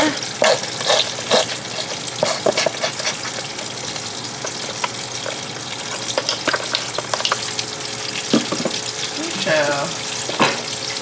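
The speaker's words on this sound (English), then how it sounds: "I'm gonna simmer that, let that do its thing" A pot of smoked meat simmers steadily up close, bubbling and sizzling without pause, with utensil clinks and a few liquid splashes and stirring noises on top.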